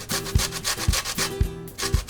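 Citrus peel is scraped rapidly across a kitchen grater for pasta, giving a rhythmic, close, raspy rubbing in quick back-and-forth strokes with a soft thump at the end of each pass, and no voices.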